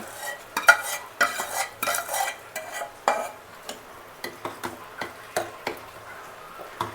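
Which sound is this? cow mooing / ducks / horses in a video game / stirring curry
stirring curry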